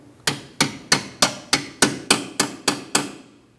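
A hammer taps a brake hose bracket into place on a 2003-2007 Cadillac CTS, ten sharp evenly spaced metallic blows ringing close and loud with no talk.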